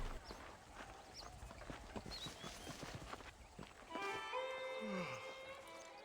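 Horse hooves clip-clop in a steady walking rhythm, fairly close, in the video game Red Dead Redemption, then give way to a louder tonal passage near the end.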